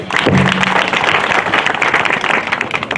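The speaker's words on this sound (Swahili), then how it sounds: "Makofi kwao tena." Loud, dense applause from a large audience at a university's first graduation ceremony, sustained clapping throughout with a brief tonal note near the start.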